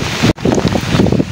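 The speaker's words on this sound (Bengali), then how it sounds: "বাতাস হচ্ছে এখন।" Strong storm wind during heavy rain in Rajbari district gusts loudly and steadily against the microphone, roaring in broad bursts with a brief sharp dropout partway through.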